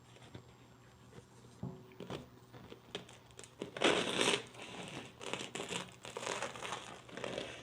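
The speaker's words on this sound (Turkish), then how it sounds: "Şimdi ekmeğimizi keselim." A freshly baked homemade karakılçık wheat sandwich loaf is cut with a knife, making close crackling, crunchy sawing strokes through the crust that grow louder partway through.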